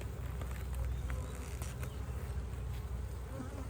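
Honey bees buzz close by over a brood frame being capped in a hive, a continuous droning hum with a few louder passes of individual bees near the ear.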